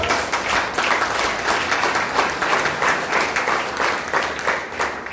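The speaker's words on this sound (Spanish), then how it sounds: "Mejor darle las palmas al Señor." A church congregation at a Pentecostal service claps together in a steady, sustained burst of applause filling the room, with no voices standing out.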